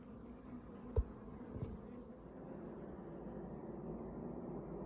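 A honeybee swarm buzzing inside a spare hive box: a steady, close droning hum, with a couple of soft knocks near the start.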